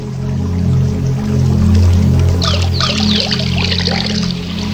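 Water poured out as a morning offering to the sun god after a river bath, a loud close steady stream with trickling splashes that brighten partway through.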